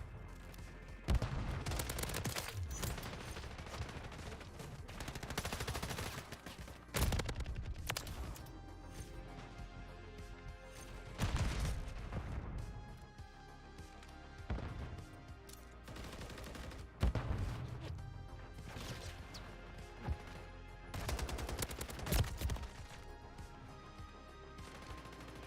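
Gunfire in a Call of Duty video game, repeated rapid bursts of shots and loud cracks through a steady din of battle noise, continuous over a long stretch.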